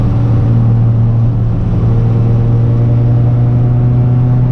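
A Honda CRX with a B16 track build cruises in 5th gear, its engine giving a steady, loud low drone with a strong constant hum and road rumble, unchanging throughout.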